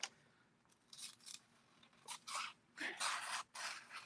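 A knife slices through a sheet of paper in a sharpness test, making several short, dry rasping and tearing strokes in uneven bursts. The sound is close and fairly quiet.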